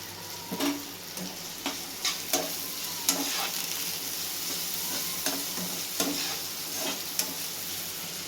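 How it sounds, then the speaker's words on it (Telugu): Onions and chillies fry in a pan under a steady sizzle, while a spoon scrapes and taps through them in regular strokes about once a second. "మంచిగా మిక్స్ చేసుకోవాలి."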